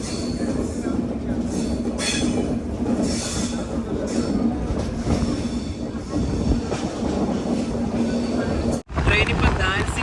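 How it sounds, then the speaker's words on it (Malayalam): Donyi Polo Express pulling into Dansiri junction, a steady rumble of the moving train with faint wheel squeal, continuous and close throughout, with a brief dropout near the end. "ട്രെയിനിപ്പോൾ ദാൻസിരി ജംഗ്ഷനിലെത്തി."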